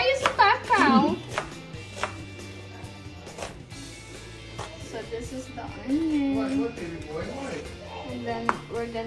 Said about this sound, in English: So I'm just cutting the onion.